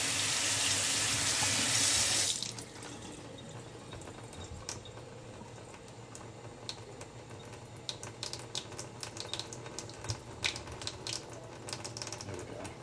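Kitchen tap water runs hard and loud for about two seconds, then eases to a softer steady trickle with clinks and taps of dishes around a sink during cooking.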